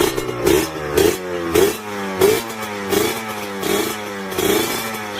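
A motorcycle engine revs repeatedly in short bursts at a fuel station, rising and falling in pitch about once a second, loud and close with no talking.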